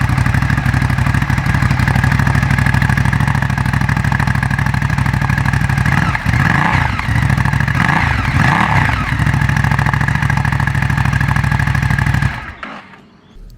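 Ducati 1100 Sport Pro motorcycle exhaust gurgling at low speed, a loud close throbbing rumble with a few pops and revs near the middle, then cutting off abruptly at the end.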